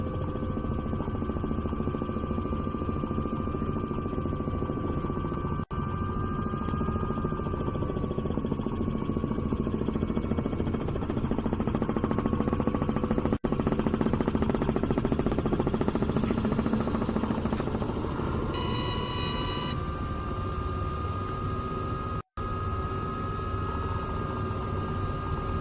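Helicopter in Microsoft Flight Simulator 2024, a loud steady rotor and turbine drone holding for the whole stretch, its pitch shifting gently as the craft maneuvers, with brief clicks and a short dropout near the end.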